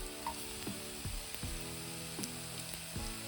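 Garlic and ginger frying in a pan for a Kerala beef fry, with a steady close sizzle and several sharp clinks of a spoon or spatula at a regular rhythm.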